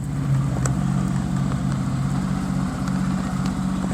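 A motorcycle engine idles steadily close by, a continuous low throbbing rumble with a regular pulse and no revving, heard alone outdoors at night.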